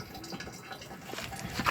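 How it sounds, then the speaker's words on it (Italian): Nile River water filling slowly through a Sawyer water filter in Sudan: a soft, steady trickle and gurgle of liquid, close but quiet, with no voices. "questa è acqua del Nilo. Va qui nel filtro e riempie pian piano."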